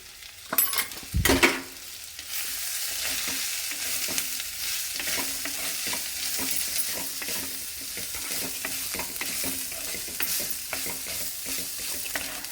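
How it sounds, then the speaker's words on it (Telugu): A spoon stirs ivy gourd pieces in a hot pan with oil and turmeric, part of a barnyard millet dish, scraping close against the metal over a constant sizzling fry after a couple of sharp knocks at the start. "మంచి కలపాలండి ఇది."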